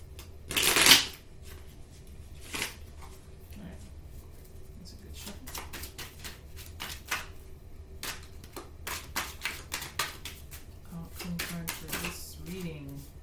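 Tarot cards riffle and shuffle through a reading, a loud burst of card flutter near the start followed by steadier soft slapping and sliding of the deck, with quiet talk in the background.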